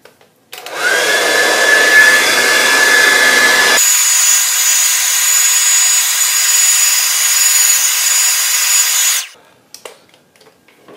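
A hair dryer blows steadily over a watercolour painting for about nine seconds, loud and close, its whine shifting to a higher, airier tone partway through as the setting or angle changes, then cutting off.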